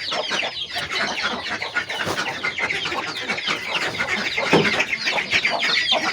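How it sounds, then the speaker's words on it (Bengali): Village chickens are let out of their enclosure, clucking busily and overlapping one another at close range, with steady, dense calling that grows slightly louder toward the end. "আর এই মুরগিগুলোকে এখন ছেড়ে দিই।"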